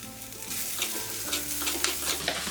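Green chillies and plenty of curry leaves sizzle and crackle in hot oil in a pan for Kerala fish curry, a close, steady frying hiss with stirring scrapes and no voices.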